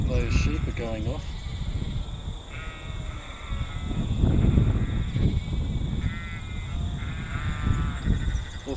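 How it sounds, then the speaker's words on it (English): Sheep bleat repeatedly at a historic stockade site, wavering calls rising and falling at middle distance over wind and outdoor noise, with someone talking through parts of it. "Seems that those sheep are going off."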